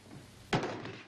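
A rifle is dropped onto the floor, giving a single short wooden thunk with a brief rattle, heard close against a quiet room.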